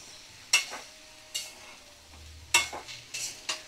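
Bottle gourd and prawns are stirred in a pan over a medium flame, with a few sharp scraping strokes spaced apart over a faint sizzle.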